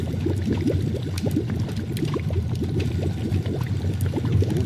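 Water bubbles constantly in a video game, a dense, even gurgling and fizzing that runs unbroken at a steady level without pause or talk.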